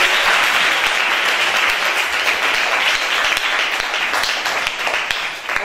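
An audience at a charity foundation event applauds the mothers who feed the children, giving loud, sustained, even clapping that tapers slightly at the very end.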